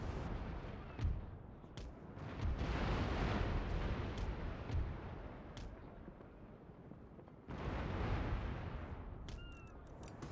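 Broadside cannon fire from three warships in the naval battle game Empire: Total War, heavy booming rumbles rolling in two long bursts with a short lull between them, loud and without talk.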